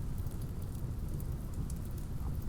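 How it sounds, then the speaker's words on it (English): Steady rain in the RimWorld video game, a continuous dense hiss of falling drops with a low rumbling wash underneath, even and unbroken throughout, with no voices. "oh, the rain"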